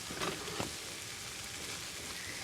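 Ham frying in a pan while it is stirred, a steady close sizzle with a couple of brief scraping accents near the start.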